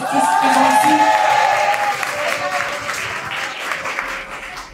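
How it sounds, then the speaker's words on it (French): Audience applause fills the room, steady clapping from a crowd that gradually thins out, with a voice briefly audible at the start. "On peut les applaudir tous qui sont tous présents ici."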